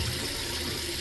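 Hot water pours steadily from a tap into a kitchen sink for dish washing, a loud, continuous rushing hiss with no pauses or voices.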